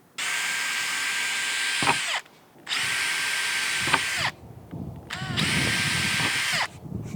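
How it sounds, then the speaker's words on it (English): Power drill with a 3 mm bit pre-drilling holes all the way through a jigsaw jig, three loud sustained whining bursts of about two seconds each, separated by short pauses and handling clatter. "I'm going to pre-drill these holes all the way through"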